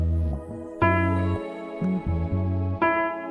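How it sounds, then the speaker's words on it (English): Piano repeating a single note as a subtle texture layer in an R&B sample, with sustained tones struck again at roughly half-second to one-second intervals, alone and fairly loud. "I added this piano repeat in the same note."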